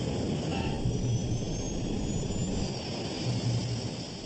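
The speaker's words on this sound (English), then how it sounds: "The plane is gobbling up 80 meters of runway every second." Qantas Flight 32, an airliner with failed systems, roars down the runway after landing, a loud steady jet-engine rumble with broad low-end noise and no voices.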